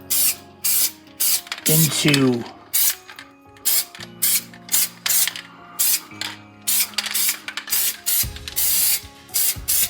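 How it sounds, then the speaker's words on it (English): Spray paint hisses onto an astronaut painting in a rapid series of short, loud bursts, each a few tenths of a second long, separated by brief pauses and faint clicks of the can. "I just realized that with some of my spraying, I sprayed up"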